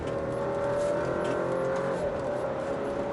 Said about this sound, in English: we're going to accelerate uphill just to check the power delivery